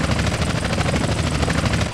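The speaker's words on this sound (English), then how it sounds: "Chopper on our tail." A police helicopter chases a car in GTA San Andreas, its rotor thudding in a fast, steady, loud rhythm with engine whine and no pauses.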